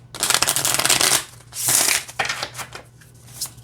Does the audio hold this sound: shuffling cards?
yes